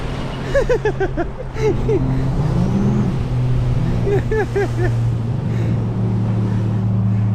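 Sea-Doo RXT personal watercraft with a saltwater-worn engine running in sport mode, a steady loud engine hum with rising and falling whines, heard close and without talk.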